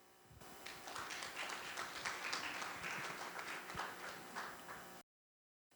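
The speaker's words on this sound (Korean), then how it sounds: "그럼 김진수 교수님을 큰 박수로 맞으시기 바랍니다" A room full of people gives a warm, sustained round of clapping for about five seconds at a Korean robotics discussion event, then it stops abruptly.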